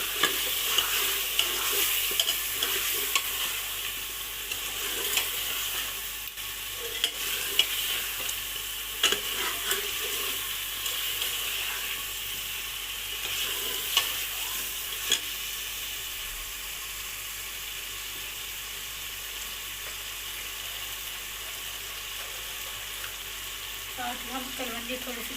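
Potato pieces fry and get stirred in a pan of masala, giving a steady sizzle broken by scraping spoon strokes and light clinks throughout, with no talking.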